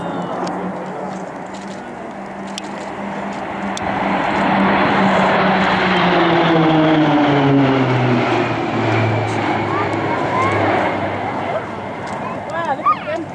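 RAAF Roulettes aerobatic propeller planes flying a loop in a display at Point Cook, engine drone swelling louder and pitching down through the middle of the pass, sustained and fairly close, with voices talking over it.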